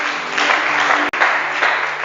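A church congregation claps and cheers briefly during a French-language worship service, a short burst of dense applause that stops for a moment and then continues.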